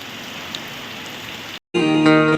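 Steady, dense rainfall hisses across the whole spectrum, broken by a brief silent gap before the downpour resumes, louder and heavier.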